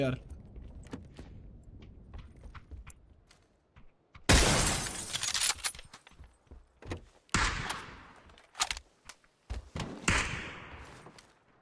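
Glass shattering in Farming Simulator 22, a sudden loud crash followed by several more breaking bursts and thuds, with people talking and game noises between them.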